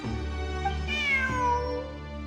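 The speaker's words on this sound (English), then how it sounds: "Look, a cat." A cat in the Genshin Impact video game gives a single drawn-out meow that rises and then falls, clear and close over a steady background of game music, with no talking.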